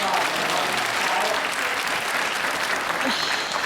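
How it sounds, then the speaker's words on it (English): Audience at a zoo bird show clapping, a dense, steady round of applause from a crowd that holds at the same level throughout, with a voice faintly audible underneath. "everybody give Anna a nice round of applause."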